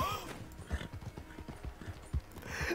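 Horse hooves clip-clop at a steady walking rhythm in the Red Dead Online video game, a run of close, distinct thuds with a brief snort or whinny near the start.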